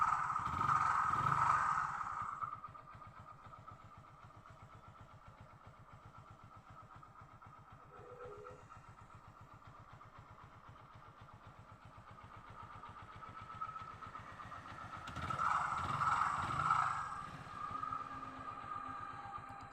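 A Hero Glamour motorcycle engine, freshly refitted with a new gasket, runs steadily at idle, swelling louder at the start and again near the end with a steady mid-pitched drone between, no talk.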